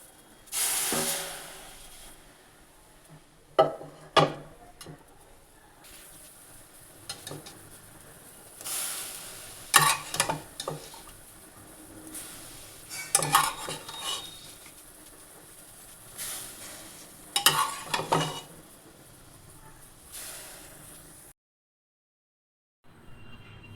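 Steady hiss and sizzle as a liquid of ground watermelon and drumstick stalks goes into hot oil with spluttering mustard seeds, with intermittent louder bursts of spatter and stirring over about twenty seconds before it cuts out.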